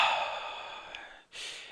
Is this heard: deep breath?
yes